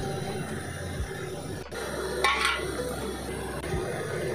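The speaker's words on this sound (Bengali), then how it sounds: "হয়ে গেলে আমরা ভেজে রাখা পটলগুলো এর মধ্যে দিয়ে দেব।" Fried pointed gourds are tipped into a pan of cooked moong dal spiced with turmeric and chilli powder. A steady cooking hiss runs throughout, with a brief scraping, sizzling burst midway and soft clatters, all close by.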